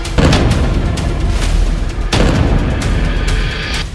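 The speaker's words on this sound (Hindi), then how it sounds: "इजरायली सेना ने खान यूनस के पूर्व में अबासन और खुजा सहित कई शहरों को तोपखाने से हमले किए हैं।" Heavy artillery shelling in Gaza, east of Khan Younis around Abasan and Khuza'a: loud, deep explosive booms, with a sharp blast near the start and another about two seconds later, each rolling over into a rumbling, reverberant tail.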